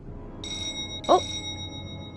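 Doorbell in the video game Heavy Rain rings two bright electronic tones in quick succession, clear and fairly close, with a faint low ambient hum underneath.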